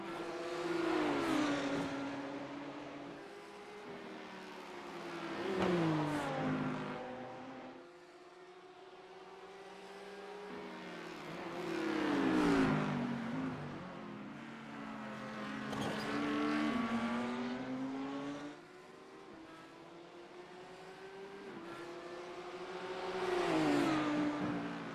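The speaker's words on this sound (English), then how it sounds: "the BMW is so quiet compared to the Audi. E6 versus, well, inline 6 versus V10" BMW inline-six and Audi V10 race car engines in iRacing at the Nürburgring 24h, revving up and down through gear changes in long rising-and-falling waves, loud and continuous with steady harmonic whine.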